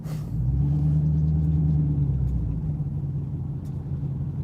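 Low, steady rumble of a supercharged car engine idling nearby, a constant deep drone that dips slightly partway through, with no talking over it.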